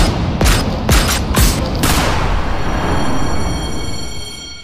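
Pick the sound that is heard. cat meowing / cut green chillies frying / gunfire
gunfire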